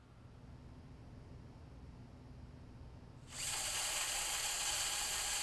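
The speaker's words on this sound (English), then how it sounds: "We've now completed our secondary VIP augmented MGS reaming." A surgical reamer cuts for an augmented MGS implant: after a few seconds of quiet, low background hum, a loud, steady high-pitched whir starts abruptly and runs continuously to the end.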